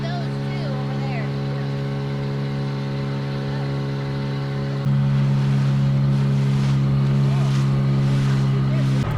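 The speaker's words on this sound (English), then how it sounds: "It's about a half-mile dinghy ride, but it seems much longer with the slow and noisy outboard of ours." A small, slow and noisy outboard motor pushes a sailing dinghy across the water, a loud steady droning hum with strong tonal whine that grows a bit heavier partway through, with voices faintly underneath.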